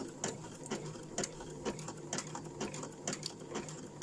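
A sewing machine tacks trim onto fabric with a quick, even run of mechanical stitching ticks and a soft motor whir underneath, close by and moderately quiet with no voices.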